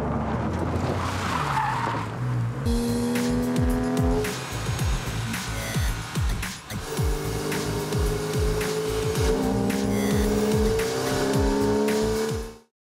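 A Porsche 911 of the 996 generation is driven hard, its engine revving loudly through rising gear pulls with tire squeal and skidding, close and sustained before fading out at the end.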